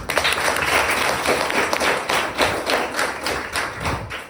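An audience claps at a Sanskrit Day celebration, a dense continuous patter of many hands with irregular thumps, fairly close and steady throughout.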